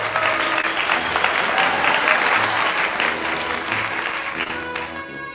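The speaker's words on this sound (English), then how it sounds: "May we give them a virtual applause." Applause for a school division superintendent at an elementary school graduation, a continuous, fairly loud patter of many hands clapping at once, holding steady and easing slightly toward the end.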